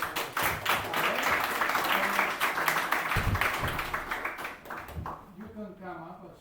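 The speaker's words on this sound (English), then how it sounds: "a big round of applause for Alex" At an investing club event in London, a small audience claps for a speaker in a brief scattered patter, fairly quiet, with people talking through it and the clapping dying away near the end.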